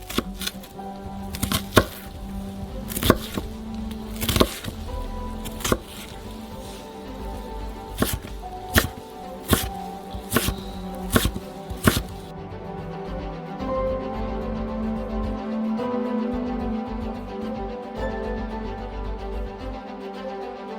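Onions are diced with a knife on a cutting board, giving about a dozen sharp, evenly spaced chops, then the chopping stops and a softer steady kitchen background takes over.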